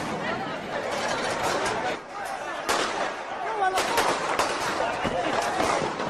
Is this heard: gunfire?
yes